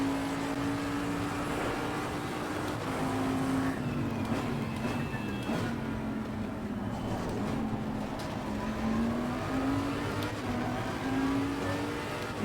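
Racing car engines roar continuously in the Assetto Corsa Competizione sim racing game, a close steady drone with the pitch rising and falling through gear changes, another car audible nearby.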